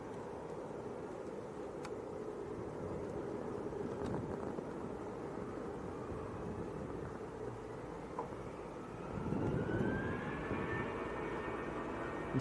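A Lufthansa Airbus A321 jet departs Manchester Airport as a distant, steady roar that swells near the end with a rising engine whine.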